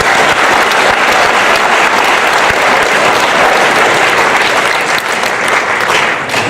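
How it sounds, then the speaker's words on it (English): Audience applause at a school fall sports awards night for the team photographer, loud sustained clapping from a crowd filling the hall, steady then easing slightly toward the end. "Let's give him a round of applause"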